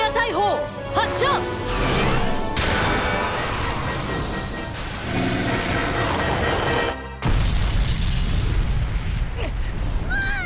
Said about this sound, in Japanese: ナイトメア大砲発射。